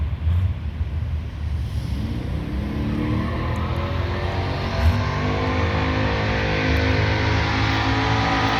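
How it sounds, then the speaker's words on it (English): Car club cruisers doing a burnout during a funeral procession for a man who loved old cars, a loud continuous engine roar and tire noise that swells slightly toward the end, close by with no talk. "They did that burnout."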